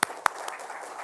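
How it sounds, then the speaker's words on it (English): A speaker at a trading and technical analysis course claps for the audience: two or three sharp, close hand claps spaced about a quarter second apart, then a quiet room. "I would want to clap for you."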